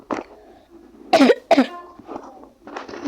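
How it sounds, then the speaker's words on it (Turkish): Two sharp, close coughs in quick succession, with quieter breathy noises before and after. "bu arada arkadaşlar öksürebilirim."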